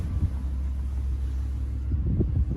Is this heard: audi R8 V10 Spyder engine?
yes